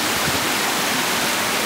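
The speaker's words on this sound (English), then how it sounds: "You can see there's just a sheer force in the water." Powerful rushing water at an abandoned mill, a dense, steady roar filling the short stretch with no gaps or other sounds.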